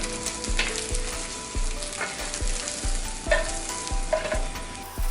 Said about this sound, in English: The omelette is turned into one move, and the other side is cooked.